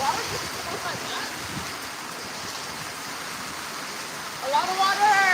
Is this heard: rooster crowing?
no